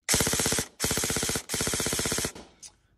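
A Tokyo Marui Socom M14 airsoft rifle with an upgraded V7 gearbox fires three quick full-auto bursts, each a rapid, even stream of sharp mechanical clacks, followed by a faint click.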